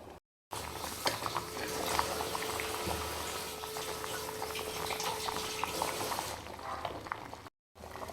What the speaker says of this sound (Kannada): ಏನು ಕುದೀತಾ ಬಂದಿದೆಯಲ್ಲ ಸಾಂಬಾರು